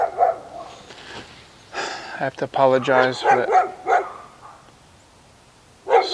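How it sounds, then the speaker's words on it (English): A neighbor's dog barks in repeated loud bursts near a garage where a 1998 VW Jetta TDI A3 is being worked on, the barks overlapping and interrupting someone talking. "He's probably going to bark the whole video."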